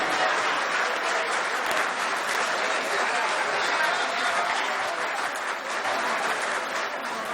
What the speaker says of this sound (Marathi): वाजवून घ्या पहिले टाळ्या